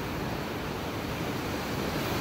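Ocean surf washing onto a beach in El Salvador, a steady, dense roar of waves with some wind buffeting the microphone, continuous and fairly close with no talking.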